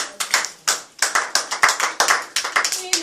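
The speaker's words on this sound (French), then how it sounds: "Acclamons pour la parole." A church congregation claps together in acclamation, a dense run of sharp, rapid hand claps in an irregular rhythm, loud and close.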